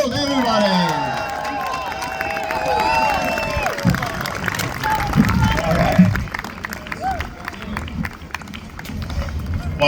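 A crowd at a No Kings Day rally applauds and cheers for Minnesota Senate candidate Mark Legvold, a steady wash of clapping and shouts mixed with voices talking nearby.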